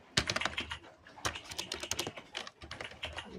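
Rapid, dense clatter of typing on a computer keyboard, close and loud, with bursts of keystrokes and brief pauses throughout, no voices.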